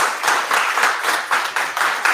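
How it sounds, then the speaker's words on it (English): An audience at a community evening event on food insecurity claps for the panelists, a moderate, even patter of many hands that swells and dips slightly throughout. "Let's give a round of applause for our panelists."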